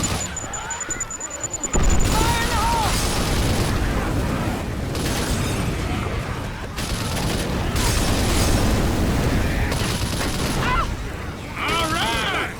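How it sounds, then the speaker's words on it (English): Explosive bursts and booms from gunfire and a grenade in the zombie shooter Left 4 Dead 2, loud and dense over most of the stretch, with players shouting over the chaos. "Grenade!"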